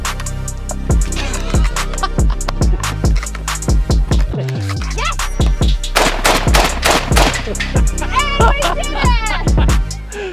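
Rapid handgun fire rings out in quick bursts of sharp, loud shots, close and echoing, with short pauses between strings and light clinks of shell casings falling in between.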